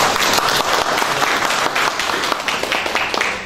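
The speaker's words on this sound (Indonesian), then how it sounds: "Tepuk tangan buat beliau." Audience at a national seminar in Temanggung applauding a speaker, dense sustained clapping filling the room at close range with no talk over it.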